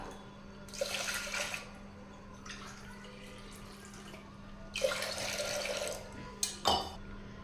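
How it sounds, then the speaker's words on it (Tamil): Water is poured from a tumbler onto washed toor dal for sambar, splashing in two separate bursts, then a few short splashes and drips, all close and quiet over a steady low hum. "இப்போ இந்த டம்ளரில் 2 டம்ளர் தண்ணி சேர்த்திக்கலாம்."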